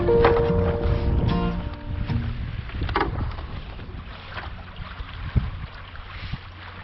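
A Kanot Yawl 400 sailing boat under mainsail and mizzen on open water in wind, with a steady wash of water and wind rush, occasional creaks and knocks from the hull and rigging, and one sharp knock near the end.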